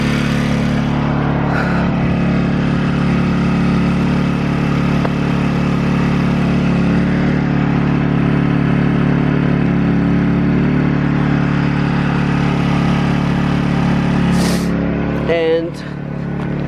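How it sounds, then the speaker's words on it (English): A portable gas generator runs steadily at a campsite near the Grand Canyon, a constant loud engine drone with a few brief clicks and knocks near the end. "So this is my generator that I bought."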